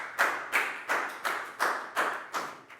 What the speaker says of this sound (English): Big round of applause for bang on